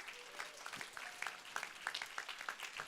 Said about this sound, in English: Yes, you can cheer for the Teacher Collaborative.